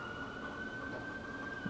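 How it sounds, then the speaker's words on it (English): A siren sounds outside, a steady high tone holding faint and distant over a low background hum with no voices. "I hear the sirens."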